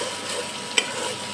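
Pasta being stirred and mixed with sauce and winter vegetables in a pan, a steady soft scraping and sizzle with one brief sharp clink of the utensil partway through.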